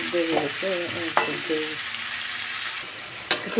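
Pumpkin curry sautéing and sizzling in a pan, a steady fry hiss with stirring scrapes and a few sharp clinks of a utensil against the pan.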